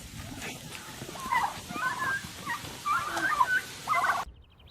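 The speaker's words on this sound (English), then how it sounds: "They're just turkeys." Turkeys on a farm gobble in several short bursts spread across a few seconds, moderately close, with some background noise and no talking.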